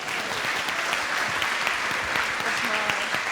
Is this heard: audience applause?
yes